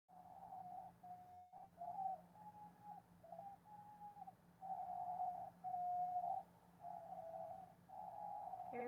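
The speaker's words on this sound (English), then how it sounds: "Here go my birds." Indoor pet birds call softly in the background, a string of short whistled notes and longer tones repeating at uneven intervals over a low steady hum.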